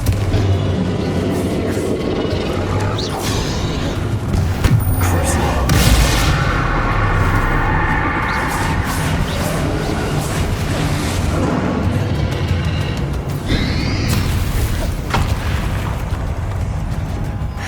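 Bombarda and Confringo spell explosions in Hogwarts Legacy on PS5 burst as several deep booms over continuous game action and sound effects, with voices heard.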